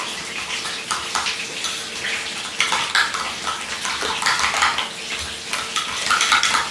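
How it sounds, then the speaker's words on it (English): Food stirred in a bowl, with repeated close scraping and clinking of a utensil against the bowl in an uneven rhythm, over faint background noise. "Let's give this a stir."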